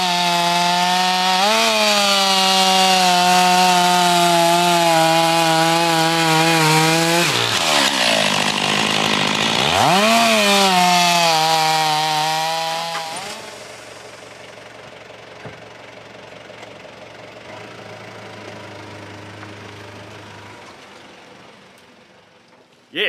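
A vintage Stihl S10 chainsaw roars loud and close for about thirteen seconds, its engine note dipping and rising under load while cutting wood, then it drops to a low idle that putters on until the end.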